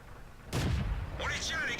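A single loud tank cannon shot booms in a tank video game, followed by a rumbling tail as a voice begins talking over it.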